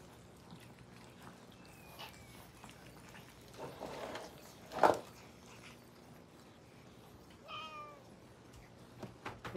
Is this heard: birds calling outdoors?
no